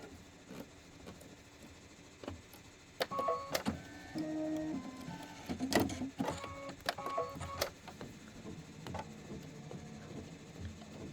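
A Kimberbell embroidery machine stitches a Wallflower quilt block, a quiet mechanical whir with rhythmic, clattering bursts of needle movement running continuously for about eleven seconds.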